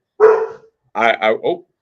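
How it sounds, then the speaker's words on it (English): A pet dog gives one drawn-out bark or yowl, then a pause and a quick run of three short barks, close and fairly loud with no talking. "My dog doesn't bark very often."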